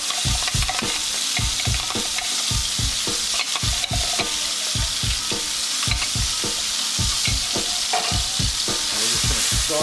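A tomato paste mixture sautéing in a pan sizzles steadily while a spoon stirs it in quick, regular rhythmic scrapes and taps, close and fairly loud, with no talking.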